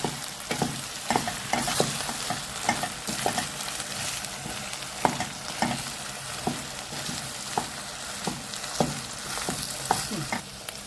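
Thinly sliced vegetables being stirred and sautéed in a pan for a Turkish vegetable stew, with a soft continuous sizzle and steady, close scraping and tapping of the spoon, no talking.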